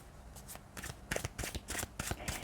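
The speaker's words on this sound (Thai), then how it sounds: "จะมีไพ่ทั้งหมดสองสำรับนะคะ" Two decks of tarot cards being shuffled, a series of quick crisp riffling bursts in an uneven rhythm, close and fairly quiet, with no talking.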